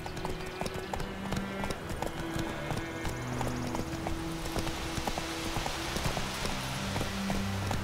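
Roach the horse gallops in The Witcher 3, steady clip-clop hoofbeats in a quick repeating rhythm running throughout at a moderate distance, with a low musical drone and faint ambient sound beneath.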